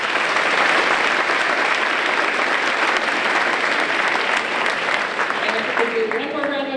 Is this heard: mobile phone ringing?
no